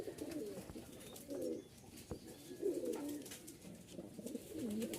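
Giribaj pigeons coo softly in repeated low, warbling phrases, a few seconds apart, faint and close with no talking over them.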